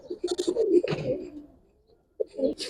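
Giribaz and Pangkhi pigeons coo close by in a few rhythmic bursts, with a short pause before another call starts.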